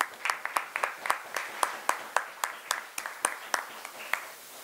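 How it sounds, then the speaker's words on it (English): A small crowd at a city council monthly statutory meeting in San Fernando City, clapping in steady, fairly quick bursts of individual claps, close and moderately loud, with no talking over it. "let's clap that"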